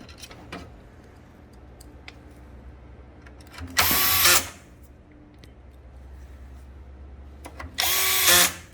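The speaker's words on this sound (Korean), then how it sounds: "나사를 이제 위아래로 꼽아주면 끝이 납니다" A power screwdriver drives screws while a toner developer unit is being swapped and refitted. It gives two short, loud whirring bursts a few seconds apart, with quiet gaps and faint handling clicks between them.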